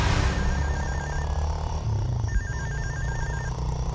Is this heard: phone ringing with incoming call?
yes